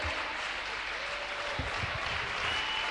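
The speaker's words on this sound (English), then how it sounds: "Please let's clap for her." Students and spectators at a school debate on science versus art applaud a speaker with steady, moderate clapping from a modest crowd, with a few sharper claps standing out midway.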